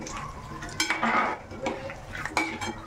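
Peanuts tipped into hot oil in a pan for Navratri fasting chivda, with a soft sizzle under clattering stirring and scraping of a metal spoon, loud and close.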